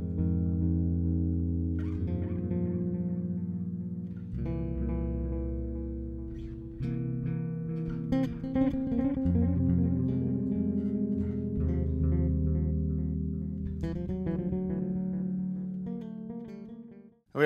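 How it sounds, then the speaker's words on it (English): Bass guitar played through the analog delay setting of a cheap $50 pedal, a steady run of low sustained notes with faint echoing repeats, loud and close, no talking. "Next notch, analog delay."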